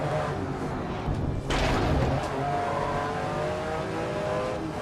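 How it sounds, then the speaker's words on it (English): Ferrari race car engine in Grid Legends droning steadily up close, with a brief louder surge partway through as it accelerates, the roar holding a constant high pitch throughout. "We're driving a Ferrari."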